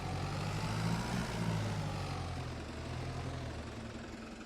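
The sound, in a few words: vehicle engine idling in the video game Farming Simulator 22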